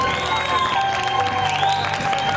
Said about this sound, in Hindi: दोस्तों एक बार इनके लिए जोरदार तालियां बजनी ही चाहिए।